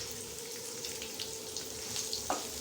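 Onions frying in a pan with a little salt added for a brinjal curry, a steady close sizzle with soft crackles throughout and one brief scrape near the end.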